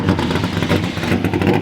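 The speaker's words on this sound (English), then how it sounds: "That's the exhaust." Illegal street-driven NASCAR race car with a heavy clutch, its exhaust revving loud and close in a throbbing, pulsing burst, with no talking.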